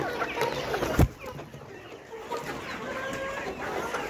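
Layer hens around 80 days old, about 1100 g each, cluck in a poultry house, a busy nearby flock murmuring with one sharp knock early and no talk.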